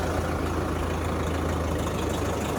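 A Swaraj 735 tractor engine runs loud and close, a dense steady diesel rumble with a constant low throb and no voices over it.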